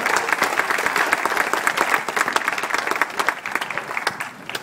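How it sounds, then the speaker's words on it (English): An audience claps throughout a lighting event at the historic old Strand Theater, producing a dense, steady round of applause for several seconds that thins slightly toward the end. "I would appreciate a big round of applause"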